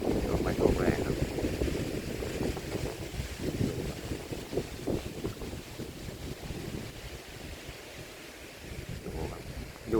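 Strong gusty wind blowing outdoors around a residential estate, roaring and buffeting the microphone continuously for about ten seconds with uneven surges.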